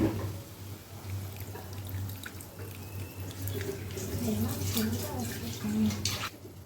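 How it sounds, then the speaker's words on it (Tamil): Tamarind water poured into a cooking pot for a special feast dish, a steady splashing trickle of liquid close by over a low background hum, with a few brighter drips toward the end. "புளி தண்ணி ஊற்றிட்டு"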